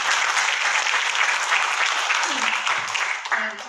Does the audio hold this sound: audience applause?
yes